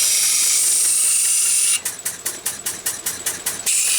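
A Lister D universal grinder runs with a steady broadband hiss and whine, then cuts into about eight rapid rhythmic pulses as the wheel bites intermittently, before returning to a continuous hiss; close and loud, no voices.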